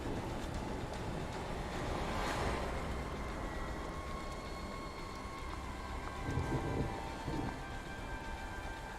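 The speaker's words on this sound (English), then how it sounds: "Wow, the rain is really fine." Steady rain and rolling thunder in the survival horror game The Evil Within fill the whole stretch as a dense, continuous wash, with a deeper rumble swelling near the end and no voices.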